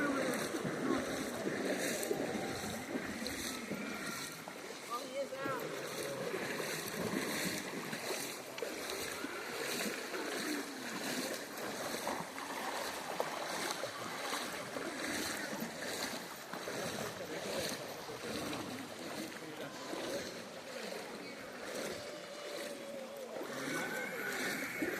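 Steady broadband rush of a waterfall at Cummins Falls, Tennessee, continuous and fairly close for the whole stretch, with voices talking over the falling water.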